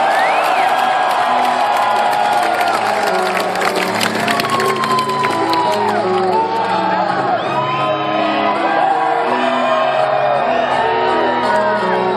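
Concert crowd at a Five Finger Death Punch show in Sioux Falls, cheering, whooping and shouting loudly and continuously, with tonal music and singing running underneath throughout.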